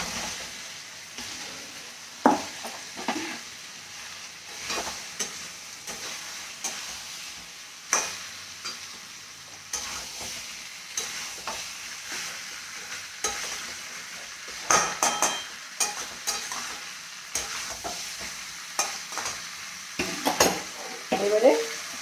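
Potatoes fry in a pan with browned onion, ginger and garlic for Bengali aloo dum, a steady sizzle under repeated close scraping and clanking of a spatula stirring against the pan.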